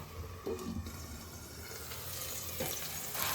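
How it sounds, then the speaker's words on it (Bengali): Spice paste (masala) for a banana flower kofta curry sautéing in oil in a covered pan, giving a steady close sizzle with a few brief louder bursts and scrapes, no talking. "এবারে মশলাটা খুব ভালো করে কষিয়ে নেব মশলাটা আমি ঢেকে ঢেকে কষিয়ে নেব"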